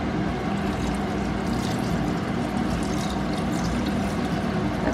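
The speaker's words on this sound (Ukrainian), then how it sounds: "Додаю води." Water pours steadily and continuously into a multicooker pressure cooker holding salted beef, a close, even splashing rush lasting several seconds, with no talking.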